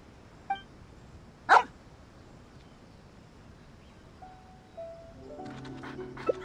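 A dog in the video game Genshin Impact lets out one sharp, prominent bark, with a fainter yip just before and soft game tones toward the end.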